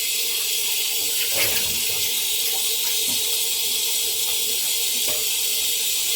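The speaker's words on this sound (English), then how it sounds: "Let the water warm up again." Water runs steadily from a kitchen tap in a continuous bright hiss, close and loud, with faint knocks of handling beneath and no speech.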